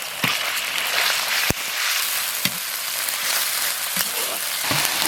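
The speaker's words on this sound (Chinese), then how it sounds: "倒入肉丝儿" Shredded beef hits hot oil in a wok and sizzles loudly and steadily, with a few sharp clicks and scrapes scattered through the hiss.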